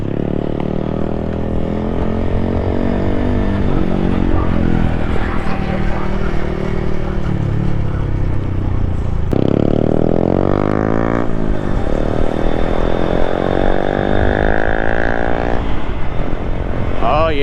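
A Honda Grom motorcycle being ridden, its small engine droning steadily close by with shifting pitch as it speeds up and changes gear, under constant wind rush throughout.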